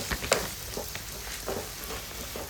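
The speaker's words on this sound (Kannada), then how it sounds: "ಇವಾಗ ನಾನು 4 ಟೊಮೆಟೊವನ್ನು ಕಟ್ ಮಾಡಿ ಹಾಕಿ ಫ್ರೈ ಮಾಡ್ತೀನಿ" Chopped tomatoes frying in a pan for tomato rice, a soft steady sizzle with a few sharper clicks and scrape-like accents from stirring, fairly faint and with no voices.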